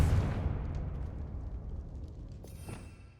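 A Confringo fire spell explodes in Hogwarts Legacy, one fairly faint boom that fades into a decaying rumble over a few seconds.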